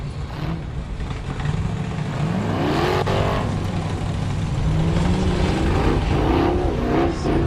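Off-road race cars run a 4 Wheel Parts Everyman Challenge qualifying course at Chocolate Thunder, engines revving and climbing in pitch, steady and fairly close, with no talk.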